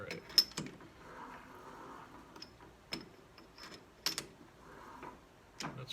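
Conventional tap cutting a thread while making a ball handle in a home workshop: quiet metallic clicks and ratcheting ticks at irregular intervals, close by, with faint grinding between them.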